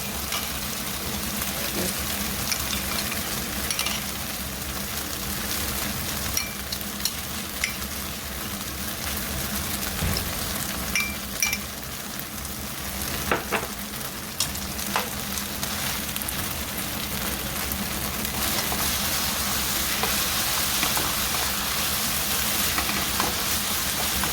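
Garlic fries in onion-infused oil for jajangmyeon, giving a steady dense sizzle and crackle throughout with occasional stirring clinks. It stays close and continuous with no talking.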